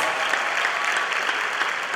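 Steady audience applause at a keynote address during a bar association annual general conference, dense even clapping from a large crowd filling the room, moderately loud and unbroken.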